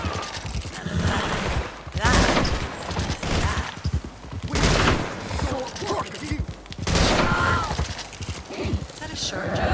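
Gunfire in the Western online game Red Dead Redemption 2 Online: several loud bursts of shots come roughly every two to three seconds, with people talking over and between them.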